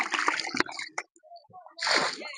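Liquid immune booster is poured into a fish pond around its corners, producing close splashing and sloshing in short bursts with a fuller pour near the end.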